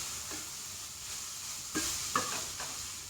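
Pappadam rice being stirred in a pan, with a few soft scraping strokes and light sizzling over a steady background hiss; faint and close, no talking.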